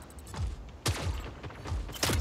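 Gunfire in the mech combat game Mech Arena as a player shoots at a bot: a few sharp bursts over a steady mechanical background, with a louder blast near the start and another near the end.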